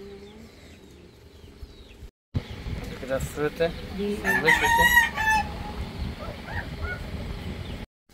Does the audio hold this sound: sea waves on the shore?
no